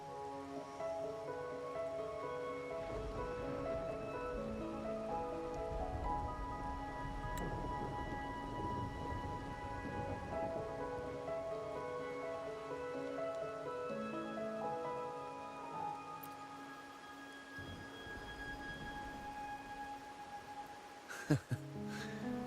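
Rain patters steadily in the video game Wuthering Waves, a soft continuous hiss beneath layered melodic music, with a few sharp clicks near the end.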